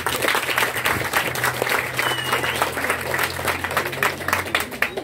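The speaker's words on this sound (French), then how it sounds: "on va d'abord commencer par applaudir les deux équipes ici présentes" An audience applauds two teams at a live event, a dense, steady wash of clapping lasting throughout, with a low hum running underneath.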